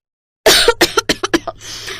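A woman coughs in a sudden loud burst and then a rapid string of six or seven harsh coughs, close and alone.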